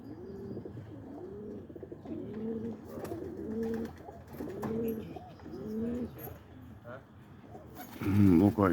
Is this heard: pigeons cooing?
yes